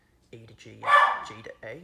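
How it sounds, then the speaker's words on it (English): A dog barks sharply once, loud and close, in the middle of a person's speech. "my dog is barking"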